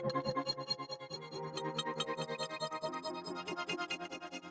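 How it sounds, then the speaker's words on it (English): Granular texture from a Portal plugin on the master bus: dense, shimmering layered tones with flickering grainy bursts, continuous and fairly loud throughout, no voices. "Trick number 2, and that's adding portal granular effects."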